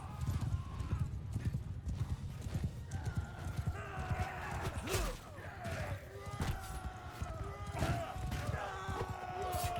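Horses gallop in Mount & Blade II: Bannerlord, dense clip-clopping hoofbeats rolling continuously and close, with occasional neighs and clashing battle noise mixed in.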